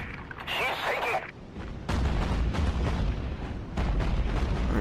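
Naval battle in the Battlestations Pacific game, with heavy booming explosions and gunfire from warships in rapid succession, loud and continuous, several distinct blasts over a rumbling background.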